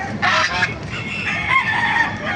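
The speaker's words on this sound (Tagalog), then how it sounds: "Nakita ko sa inyo mga manok dito, mga bagong dating." Chickens cluck and squawk loudly close by at a poultry market in Baliuag, Bulacan, with a rooster-like call rising over a crowded background of many birds.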